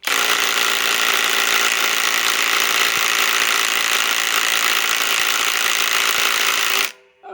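A Milwaukee M12 Fuel stubby impact wrench (2562-20) hammers loudly and continuously while failing to break a bolt loose, a dense close rattling whine that runs for about seven seconds and then cuts off abruptly.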